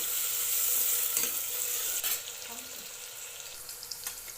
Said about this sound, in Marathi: तर मी आता हे मटण टाकून घेते याच्यामध्ये